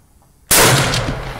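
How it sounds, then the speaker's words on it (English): A single loud, close shot from a French Lebel R35 carbine in 8mm Lebel, a German-captured rifle fired at a target range, with a sharp crack and a long reverberating tail. "second shot on IDPA here"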